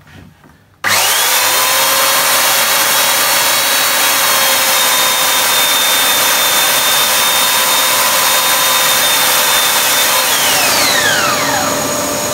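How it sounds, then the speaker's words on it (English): A steady, loud belt sander whine runs continuously for about ten seconds as an abrasive cleaning stick is held to the belt, then winds down as the motor slows near the end. "A little abrasive cleaning stick is always worth having for belt sanders."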